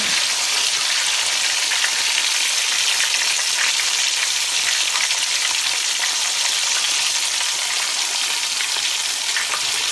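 A steady, dense sizzle of chicken pakoras deep frying in hot oil, with constant bubbling and crackling close by and no voices.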